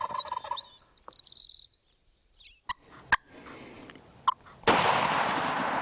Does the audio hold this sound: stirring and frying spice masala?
no